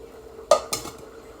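A metal lid set onto a pot of adobo-seasoned rice, two quick clanks about a fifth of a second apart, close and fairly loud, then quiet.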